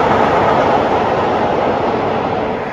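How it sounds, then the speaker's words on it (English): A train rumbles past close by, a steady loud roar of wheels on rails that slowly eases off toward the end. "Here's a train."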